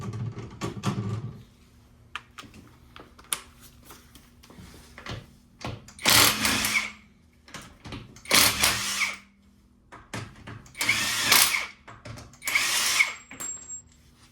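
A power tool works on the wheel of a BMW E60, with several separate loud bursts of rattling whir, each lasting around a second, separated by quieter gaps and faint handling noises.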